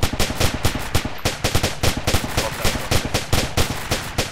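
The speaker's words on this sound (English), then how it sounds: "Rapid fire south." Rapid bursts of automatic gunfire crackle in a steady, fast rhythm, loud and close, with repeated sharp shots running without a break through the whole stretch during a military firefight.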